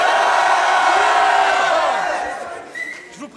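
A battle rap crowd roars with loud, sustained cheering, shouting and whooping, a dense wall of voices that gradually fades, with scattered individual yells near the end.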